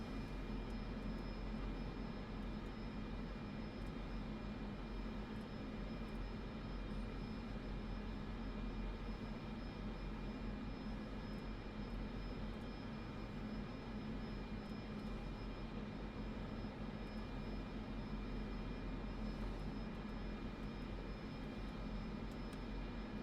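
Steady jet engine roar of an airplane taxiing in Microsoft Flight Simulator 2024, a constant loud hum with a broad rumble and high whine that holds unchanged throughout, with no voices.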